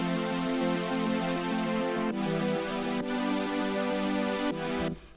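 Layered synthesizer super saw pads sustain together as a dense, bright chord, with a few sharp chord changes and a slight pulsing shimmer, close and full before cutting off at the end.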